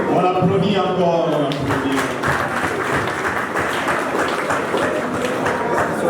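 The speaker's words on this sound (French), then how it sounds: "On applaudit encore." A crowd claps at a university integration ceremony in Kolwezi. A brief voice or tonal sound opens the stretch, then sustained, dense applause carries on loudly to the end.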